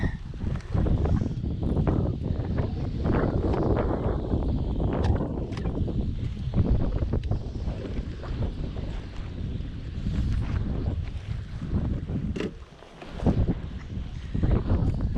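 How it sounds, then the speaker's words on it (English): Strong wind on Lake Hodges buffets the microphone while fishing from a boat, with loud, gusty roaring rumbles that swell and dip throughout and a brief lull near the end. "This wind is just insane."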